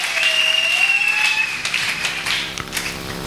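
A church congregation clapping and cheering in praise, a dense burst of applause with a shrill whistle or cry riding over it at first, then thinning into scattered claps.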